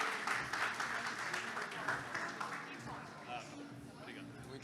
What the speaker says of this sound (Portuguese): Salva de palmas pro Tota, pessoal